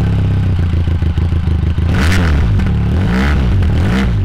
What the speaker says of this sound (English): Benelli have done a really good job of having a great sounding exhaust